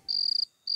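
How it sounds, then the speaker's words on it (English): Shrill, high-pitched cricket chirping in a fast pulsing trill, cutting off briefly before resuming; close and clear with no talking. "Crickets."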